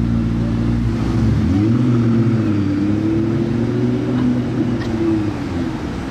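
Blue McLaren P1 supercar with orange trim, its engine revving loudly and steadily at close range during the Monaco Grand Prix, pitch rising and falling over a continuous deep rumble.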